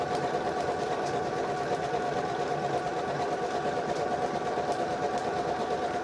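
A sewing machine running steadily while stitching a quilted table topper, a continuous close mechanical whir and rapid needle rattle with no talking.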